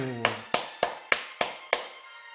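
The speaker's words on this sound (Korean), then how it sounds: "우리 하나님 영광의 박수." A church congregation at a Sunday worship service claps in unison: six sharp, evenly spaced claps, close and fairly quiet, with a sustained tone fading underneath.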